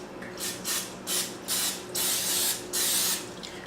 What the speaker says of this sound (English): I just like to spray it really good because they do stick